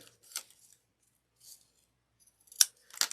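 Scissors trimming excess material for a handmade coffin-shaped wallet: several separate crisp snips, two quick cuts near the start, one softer in the middle and a sharp pair toward the end, close up with quiet pauses between.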